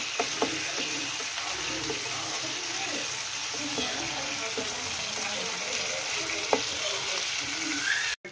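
Chicken with ginger garlic paste sizzles steadily in a hot pan while a utensil stirs it, adding occasional scrapes and knocks over the continuous frying hiss.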